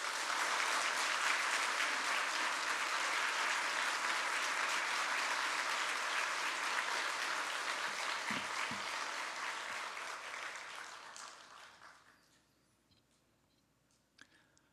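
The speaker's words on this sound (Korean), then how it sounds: "우리 큰 박수로 환영합니다" Large congregation in a church sanctuary applauds in welcome of a pastor at an installation service, a long dense burst of clapping that holds steady and then fades out to near silence.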